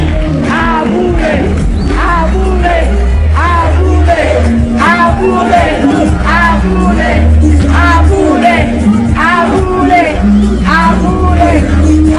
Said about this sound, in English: Let's cheer for him.